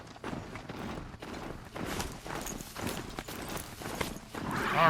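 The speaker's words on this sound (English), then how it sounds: "Actually surprised they gave me a horse." Horse hooves clip-clop steadily at a brisk, rhythmic pace in the video game Horizon Zero Dawn, fairly close and loud, with no talking.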